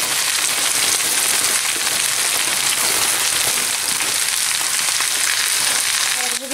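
Spinach shoots fry with onion in a pan, giving a loud, dense, unbroken sizzle that holds steady from start to finish.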